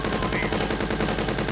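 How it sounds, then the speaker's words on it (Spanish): Rapid bursts of automatic gunfire in the video game Door Kickers crackle continuously, dense and loud, with no voices. "¿Veis los disparos que hace ese tío?"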